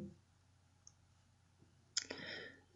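Computer mouse clicks while saving an image, a single sharp click near the end followed by a brief burst of desk or handling noise, close and fairly faint against a quiet room.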